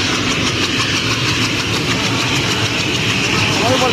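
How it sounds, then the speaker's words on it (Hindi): Helicopters at a landing site warm up their engines, a loud, continuous turbine roar and whine that holds steady throughout, with faint voices underneath. "अभी इंजन गर्म हो रहा है।"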